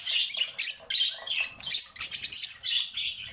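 Pet budgerigars, a pair being watched for mating and egg laying, chirp and chatter close by in a rapid, continuous stream of high squeaky tweets and warbles, with no talking over them.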